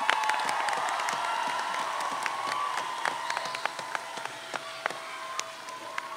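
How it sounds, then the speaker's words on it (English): A rally crowd applauds, a dense patter of clapping that fades gradually, with a few scattered louder claps near the end. "let's give Norman and the Congressman a round of applause."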